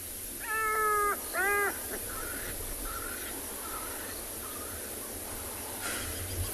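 A black-backed jackal calls in the African bush in daytime, giving two loud, wavering, yelping cries early on, followed by several fainter answering calls further off over a steady outdoor hiss.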